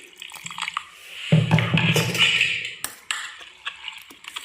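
Water splashes and trickles into a mixer jar of dosa batter at close range for a couple of seconds, with clinks and small drips around it.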